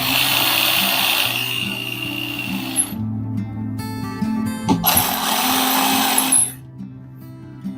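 A power screwdriver drives screws into a wall receptacle, a loud close whine that runs steadily, stops briefly with small clicks and handling, then resumes before cutting off.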